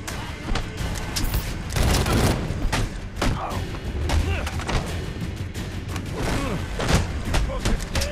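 Rapid, heavy turret gunfire from Batman: Arkham Origins, a dense continuous barrage of booming shots and thuds that stays loud throughout with no talk over it.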